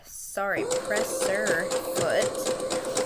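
A sewing machine stitches chiffon ruffles, a close, steady mechanical hum and rapid needle clatter running continuously under a woman's spoken instructions.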